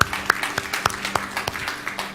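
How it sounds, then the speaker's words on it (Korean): A church congregation applauds during a Sunday worship service, with sparse, rhythmic claps at a fairly fast even pace, moderately faint and alone. "하나님께 영광의 박수 올려드리겠습니다."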